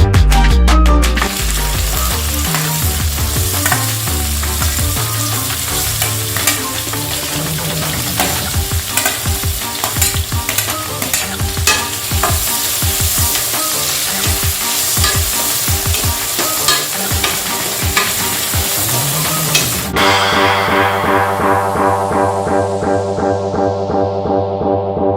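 Onions and green chillies frying in hot oil for a mutton curry, a steady loud sizzle with frequent stirring scrapes throughout, then a sudden shift to a brighter, smoother hiss near the end.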